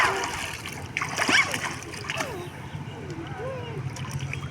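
Water splashing and sloshing as someone swims at the Mandarmani seaside, a broad burst of splashes near the start followed by lighter sloshing, with voices talking over it.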